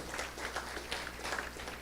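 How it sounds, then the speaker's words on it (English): Audience applause at the launch of a political education institute, a steady wash of many hands clapping that fills the whole short stretch at moderate, fairly distant level. "give them a round of applause for this excellent"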